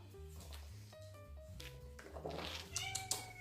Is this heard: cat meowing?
yes